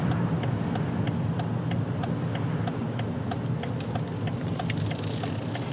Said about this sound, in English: right turn signal.